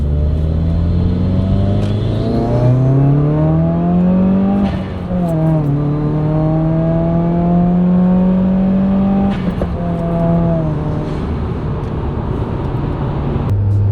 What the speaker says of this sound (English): Do a quick second into third here.